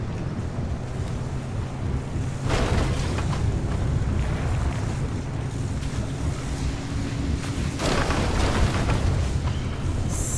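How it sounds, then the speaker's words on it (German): An approaching storm in Pacific Drive: steady, loud wind rush with a low rumbling roar beneath it. Two stronger gusts swell around the middle and near the end, with no voices. "Oh, da kommt ein Stürmchen."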